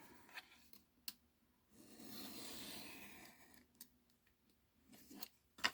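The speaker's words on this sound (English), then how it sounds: "So I'm going to cut off these, the sides." Scissors trim the sides of paper for a soft cover junk journal, with a few quiet snips and a longer rasping cut in the middle, close and faint, with no voices.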